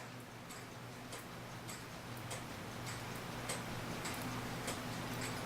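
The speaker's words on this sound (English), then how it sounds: "We'll see how this clock runs." A 1904 Ansonia kitchen clock ticking steadily during repair, an even run of faint, crisp ticks over a low background hum.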